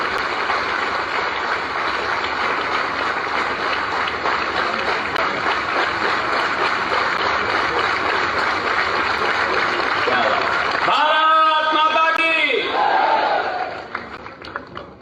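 An audience at a defence exhibition inauguration in Maharashtra breaks into thunderous applause, loud and sustained for about eleven seconds before it drops away and a voice takes over.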